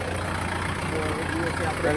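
A tractor engine idling at home after ploughing, a steady low rumble close by with people talking over it.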